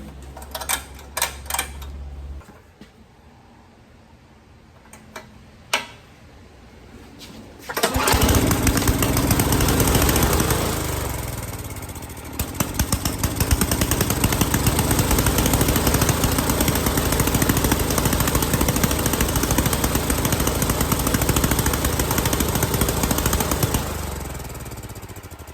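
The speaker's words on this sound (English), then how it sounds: "So this was an Ariens 824 snowblower, 2-stage, got the carburetor replaced." An Ariens 824 two-stage snowblower engine with a newly replaced carburetor starts after a few clicks and pulls, then runs loud and steady nearby, its roar dipping briefly before settling into a constant drone with no talking.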